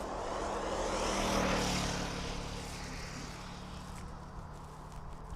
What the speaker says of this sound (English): A 9-year-old aircraft.